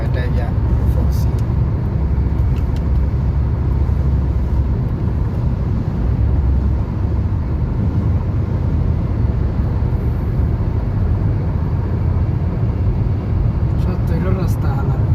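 Steady, loud road rumble from a car cruising fast along a clear highway in the small hours of the night, a continuous low drone with tyre and wind noise throughout and no clear speech.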